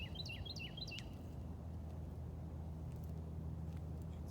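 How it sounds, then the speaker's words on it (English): Songbirds chirp and trill briefly in a garden on a warm August morning, a few quick high calls near the start over a low hum of distant traffic. "You can hear the birds. They're so happy."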